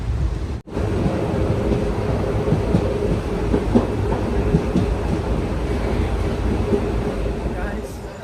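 Passenger train travelling overnight toward Tirunelveli, a steady loud rumble of wheels on rails with faint rhythmic clatter filling the whole clip from inside the carriage.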